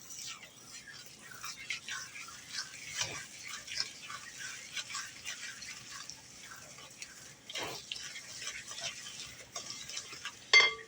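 Spoon scraping and clinking in a bowl as milk is worked into spice cake batter by hand, quiet irregular strokes with wet swishing, close up, with one louder clack near the end.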